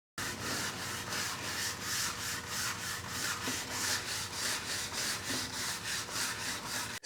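Steady back-and-forth block sanding of primer on a car bumper during body filler repair, a continuous rhythmic rasping scrub with regular strokes, close and moderately loud, no voices.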